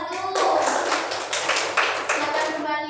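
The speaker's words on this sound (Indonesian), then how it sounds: "berikan tepuk tangan untuk kelompok 1" A student group in a classroom gets a short round of applause, several people clapping together in a loose patter for a few seconds, fairly close, with a voice speaking over it.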